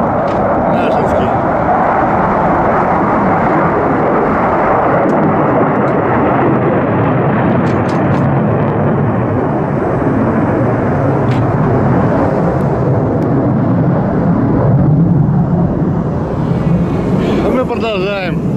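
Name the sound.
aircraft flying over near Belbek airfield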